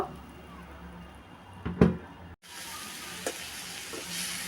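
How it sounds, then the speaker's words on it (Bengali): Spices such as turmeric, chili and cumin powder with a splash of water are stir-fried for a fish curry with stems, giving a steady low sizzle, a louder scraping stir burst midway, a brief cut, then continued frying hiss with faint utensil touches. "তো নেড়ে চেড়ে কষিয়ে নিলাম তো সব মশলা দিয়ে কষিয়ে নিলাম"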